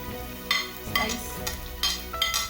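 Sliced onions frying in a pan give a constant sizzle, with several sharp scrapes and knocks of a spoon as they are stirred. There is no talking.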